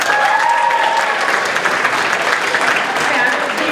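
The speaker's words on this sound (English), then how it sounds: "Big round of applause for yourselves." Loud, sustained applause from a crowd at a ceremony, dense clapping throughout with no clear gaps.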